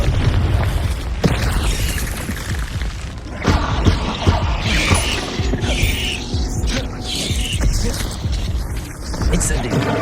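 Confringo explosion spell cast in the video game Hogwarts Legacy, a dense burst of booming, crackling magical blasts and mechanical clatter, loud and sustained with repeated impacts amid busy game sound, with a voice speaking over it.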